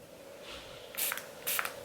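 Two short bursts of Pure Haze Mist CBD facial setting spray hiss close by, about half a second apart, over a quiet steady background hum.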